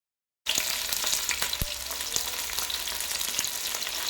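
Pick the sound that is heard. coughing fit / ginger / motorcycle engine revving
ginger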